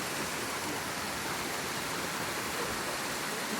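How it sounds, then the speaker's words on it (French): Mountain torrent rushing over fresh landslide debris, a dense continuous roar of water, steady and unbroken with no voices. "le torrent a repris son chemin et a commencé à purger"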